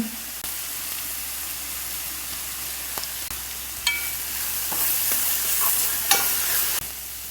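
Green chillies and curry leaves sizzle in hot oil in a pan, with chilli powder added, for a Kerala village-style okra pachadi. The steady frying hiss is broken by a few sharp spatula clicks and scrapes, with no talking.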